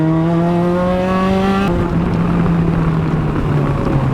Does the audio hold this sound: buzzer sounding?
no